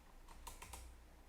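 Code being typed on a computer keyboard: a few soft, quick keystrokes, faint against a quiet steady background hiss.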